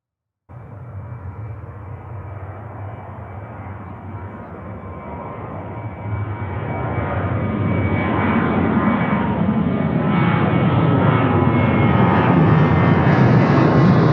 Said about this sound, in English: Alaska Airlines off and moving.